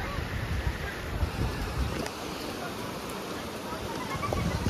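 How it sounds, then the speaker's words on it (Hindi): Water rushing at Bokaria waterfall near Mirzapur makes a steady broadband roar mixed with wind buffeting, with a voice faintly present. "कैसे बह रहा है पानी, देख रहे हैं लहर, देखिए पानी का यहाँ पर"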